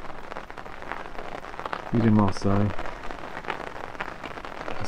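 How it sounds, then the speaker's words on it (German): Heavy rain drums steadily on a fishing tent beside the water, a dense close patter throughout, with someone briefly speaking over it midway. "Es regnet immer stärker"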